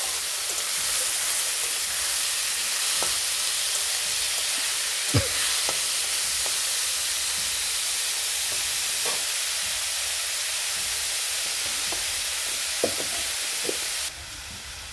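Masoor dal (red lentils) frying in a pan gives a constant loud sizzle and hiss, broken by scattered clicks and taps of stirring over about fifteen seconds.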